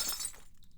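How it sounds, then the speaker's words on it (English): Stalactites in a cave shatter with a bright, glassy crash of breaking shards that rings out for about half a second and then cuts off, followed by a few faint tinkling fragments. "Her scream shattered a few stalactites close to us."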